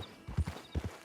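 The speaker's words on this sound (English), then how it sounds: "Get on the horse there." A horse's hooves strike the ground close by, with two quick pairs of clip-clops in an uneven walking rhythm.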